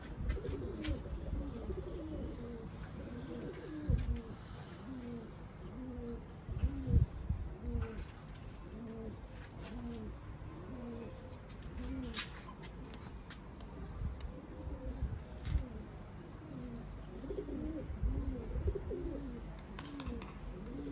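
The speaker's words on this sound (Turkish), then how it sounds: "sesleri, solukları, neşeleri iyi kuşların." Pigeons coo steadily in soft, repeated rolling phrases, several birds close by, with occasional rustles and faint background voices.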